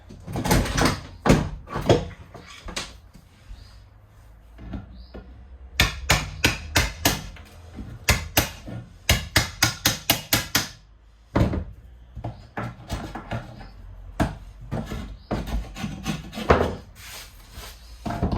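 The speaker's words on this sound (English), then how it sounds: "I just need to chip the top of the ply off here." Plywood is chipped off a 1978 Avondale Heron caravan's front bed locker with repeated sharp hammer-like knocks, coming in irregular bursts and fast runs of blows, close and loud.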